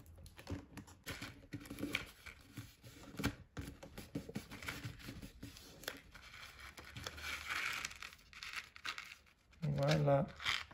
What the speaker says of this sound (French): Donc j'enlève mon scotch ici.